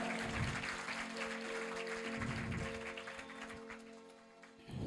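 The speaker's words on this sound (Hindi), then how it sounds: "प्रभु यीशु के नाम की तालियां बजाइए एक बार" Church congregation applause during a testimony service, a sustained round of clapping with a steady musical drone underneath that fades slightly toward the end.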